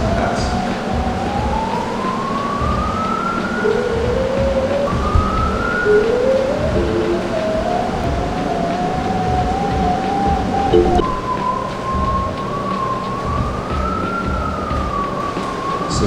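A sewer pipe camera locator gives off a steady electronic tone that slides up and down in pitch, rising and warbling over a constant low rumble with faint background noise.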